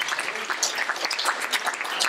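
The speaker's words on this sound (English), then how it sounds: "let's give another round of applause to David and Edgar for bringing the costume and the history to us" Applause from the audience at a Tropicalismo and Carnaval panel discussion, a brisk burst of many hands clapping, fairly close and moderately loud.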